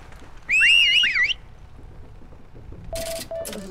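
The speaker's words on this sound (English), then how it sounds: "Oh yeah, you can whistle." A character in the WWII shooter game Heroes and Generals whistles a short warbling tune, followed after a pause by brief electronic game beeps and clicks.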